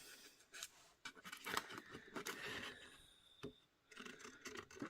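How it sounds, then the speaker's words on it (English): Quiet, close snipping and crunching of scissors cutting through card, in short irregular strokes with small pauses. "I'll cut round it with my scissors"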